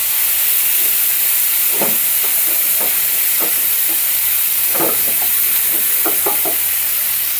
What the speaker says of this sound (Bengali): চিকেনটা ভেজে নিচ্ছি একটু